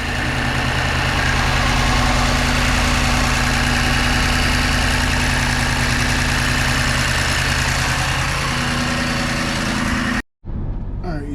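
A BMW X7 M50i engine, fitted with a flex fuel kit, idles loud and close with a steady low rumble throughout, cutting out for a moment near the end before a brief return.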